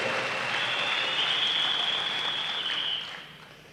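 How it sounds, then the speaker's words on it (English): Delegates at a national trade union congress in a large hall give a steady, dense wash of applause that holds loud for about three seconds and then starts to fade. "You can give yourself a great round of applause for that."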